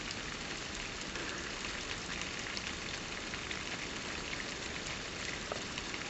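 Rain falls steadily outside, a dense, even hiss of drops with no pauses and no voices.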